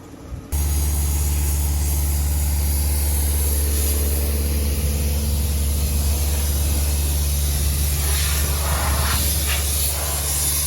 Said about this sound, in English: Early morning maintenance with the tractors on the trailers, blowing the filters and the radiators.